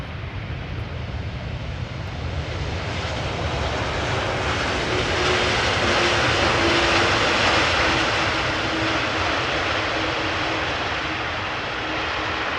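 A Boeing 777 freighter lands at Amsterdam Schiphol with its thrust reversers applied, giving a loud, sustained broadband jet roar that swells and holds steady. A faint tonal whine rides above the rumble, and no one speaks.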